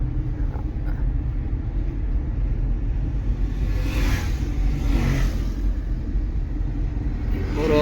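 A car climbs the winding Bopdev ghat road during a driving lesson, its engine a steady loud close rumble with road noise from inside the cabin, swelling slightly midway as it accelerates.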